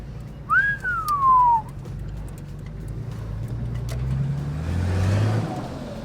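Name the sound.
Nissan Patrol GQ driving into a workshop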